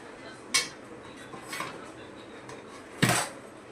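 A pan of steamed dhokla is lifted out, with three sharp metallic clanks of dishes and utensils about a second apart over a quiet kitchen background. Nobody talks.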